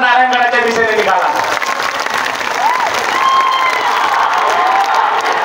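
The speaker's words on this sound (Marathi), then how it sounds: "जोरदार टाळ्या वाजून" Loud, sustained applause from a large crowd at a Maratha community rally at Narayangad in Maharashtra, with cheering and shouts mixed in throughout.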